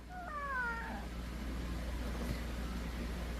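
A single drawn-out cat meow, fairly close, over a low steady hum, followed by quiet background noise.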